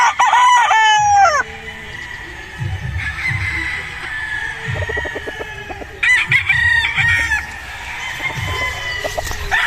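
A Boston Sweater gamecock stag crows loudly and close at the start, then crows again later, with softer clucks and scuffling in between.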